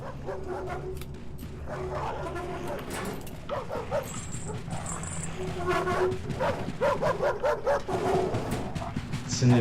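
An unseen dog in the horror video game Welcome to Hanwell barks and whimpers in repeated yips and woofs, mixed with a person talking and game ambience.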